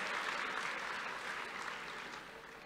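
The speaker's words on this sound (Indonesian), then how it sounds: "Boleh tepuk tangannya Bapak dan Ibu hadirin sekalian sebagai bentuk apresiasi" A conference opening plenary audience applauds together, a soft, even wash of many hands clapping heard from a distance, steady and fading slightly toward the end.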